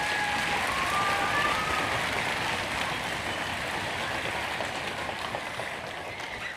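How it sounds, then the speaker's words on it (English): Audience applause for a fifth grade orchestra at a school orchestra festival, a dense continuous roar of clapping that starts strong and slowly thins out, with no speech over it. "give them one big round of applause"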